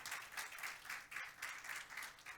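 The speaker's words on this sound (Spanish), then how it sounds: "Denle un aplauso al Señor." Church congregation claps for the Lord during a Spanish-language service, a faint, distant patter of hands with a steady rhythmic pulse, heard on its own without voices.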